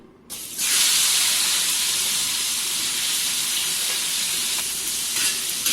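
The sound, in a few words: dried bombil fish frying in hot oil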